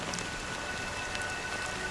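Steady rain falls in the video game Honkai: Star Rail, an even, hissing patter of drops with no pauses, moderately soft and alone.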